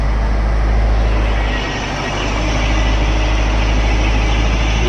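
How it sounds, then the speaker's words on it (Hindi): A Mahindra Bolero engine idles after starting, following a fuel injector starting problem, with a steady, loud, low diesel rumble and a brief dip in level midway. "अभी गाड़ी स्टार्ट हो गई है।"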